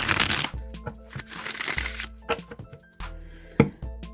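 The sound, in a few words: shuffling a tarot card deck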